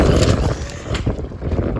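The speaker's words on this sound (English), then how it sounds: "Ooh, it's windy today." Gusts of wind buffet the microphone in low rumbling bursts that rise and fall unevenly for a couple of seconds.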